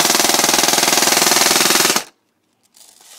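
An ECHO1 ASC SCAR-L airsoft rifle on a LiPo battery fires a rapid full-auto burst of about two seconds, loud and close with a fast, even rattling rhythm, then cuts off abruptly into near silence.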